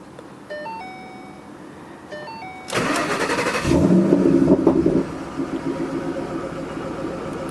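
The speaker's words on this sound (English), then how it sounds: "You can just hear that exhaust sound." A 2012 Ford Shelby GT500 turns over after a few warning chimes, then bursts into a loud starter crank and roaring exhaust flare that settles into a steady, rumbling idle nearby.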